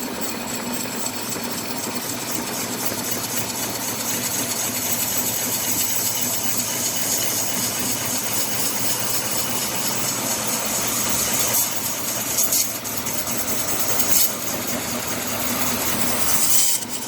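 A large Forstner bit boring into wood on a machine, giving a steady loud grinding drone with a machine hum throughout and a few sharper scraping bursts toward the end, no talk over it.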